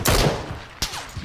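Gunfire in the battle royale game PUBG: two sharp, loud shot bursts, the first a short rattling volley and the second a single crack with a quick echo, close and without voices.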